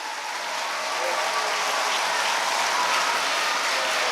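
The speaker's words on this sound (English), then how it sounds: "I should congratulate the entire team with a big round of applause" A big round of applause for the team at a school's International Women's Day celebration, sustained and even clapping from a crowd that swells slightly and holds steady.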